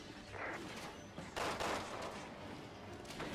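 Gunfire in Resident Evil 6, a few sharp loud shots in quick succession amid game noise, with no talk.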